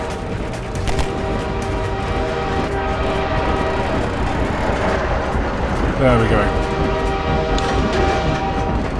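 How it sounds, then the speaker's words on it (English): A train rolls past in Half-Life 2, a steady mechanical rumble with tonal hum running the whole time, swelling slightly near the end, while someone talks over it. "Train coming."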